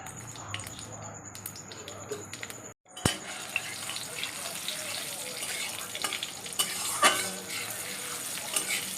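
Dried red chilies, bay leaves and cumin seeds spitting in hot oil for a vegetarian ghugni tempering: a crackling sizzle with stirring scrapes and utensil clinks, briefly cut off near the start, then resuming steadily.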